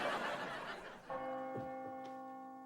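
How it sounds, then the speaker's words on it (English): A church bell rings from across a town square, a sustained ringing tone with a couple of soft strikes fading away, after a burst of noisy laughter or crowd sound. "I hear faint chimes from across the town square"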